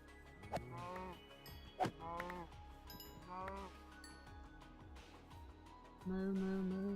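Cows mooing in a modded Minecraft-style farming game, several drawn-out calls spaced a few seconds apart, fairly close and clear over a quiet background, with a steadier tone near the end.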